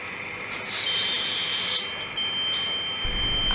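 A Graviner Mark 6 oil mist detector sounds its alarm during a smoke test: a steady, piercing electronic tone held throughout, over a hiss of spray and faint background machinery.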